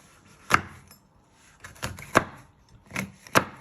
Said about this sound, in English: once you have prepped your pepper and took all the seeds out, you just want to finely slice it